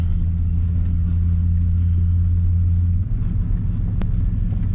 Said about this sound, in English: Cross through the grass over here. First time off-roading the truck.